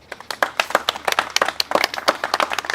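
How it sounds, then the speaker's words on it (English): Guests clap at a wedding ceremony, a small group's distinct, fairly quick handclaps ringing out close by in an uneven rhythm for a few seconds. "Give a round of applause."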